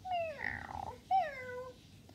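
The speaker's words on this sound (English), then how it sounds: "There was an old black cat" A cat gives two distinct, drawn-out meows, each rising and then sliding down in pitch, fairly quiet and close, with a brief pause between them.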